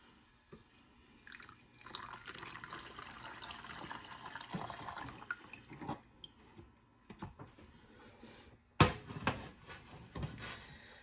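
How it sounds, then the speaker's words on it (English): Excess frying oil drained from a pan after chicken for chicken parmesan: soft, uneven pouring and trickling, with a sharp clatter partway through and quiet kitchen handling noises around it. "I'm going to drain off my excess oil now."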